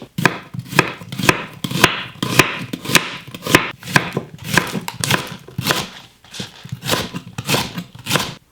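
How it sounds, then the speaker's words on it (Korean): A kitchen knife chops food into large chunks on a cutting board while pork kimchi-jjim is prepared, giving loud, close, irregular thuds in quick bursts with short pauses between, and no talking. "큼직큼직하게 잘라야 되겠다"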